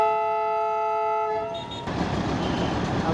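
A diesel toy train at Ghum station sounds a loud, steady horn for about a second and a half, then gives way to a close, rumbling engine roar with hiss.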